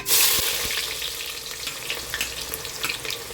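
Sliced onions sizzle in hot oil for a mutton pulao, with a loud hiss as they hit the pan, then a steady crackling fry and occasional stirring clinks.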